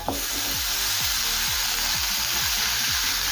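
Potato, pointed gourd and drumstick pieces fry in an open pan, giving a steady bright sizzle with repeated rhythmic scraping as the vegetables are stirred and turned.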